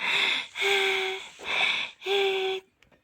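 A child takes several deep, audible breaths in a steady rhythm, each with a faint wheezy whistle, close to the listener, while a doll's breathing is checked in pretend doctor play.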